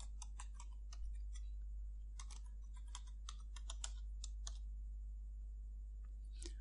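A web address being typed on a computer keyboard: quick clusters of light key clicks in irregular bursts, close and fairly faint over a steady low hum, with no talking.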